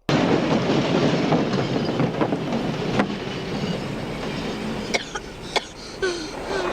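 A train rumbles past on the tracks with a loud, continuous roar, then fades somewhat, leaving sharp metallic clicks and clacks near the end.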